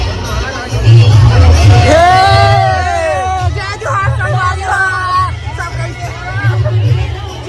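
Dense crowd hubbub at the Naila Durga fair in Janjgir, steady loud babble of many voices with a few raised voices rising above the din throughout.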